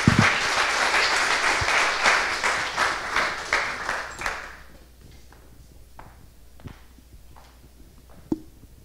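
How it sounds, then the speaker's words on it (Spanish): Audience applause welcoming a team onstage at a startup demo day: dense clapping for about four seconds that quickly dies away, leaving a quiet room with scattered taps and a small knock. "Recibimos con un fuerte aplauso a los integrantes del equipo, Agustín Pérez, Camila Mauro y Joaquín Jones."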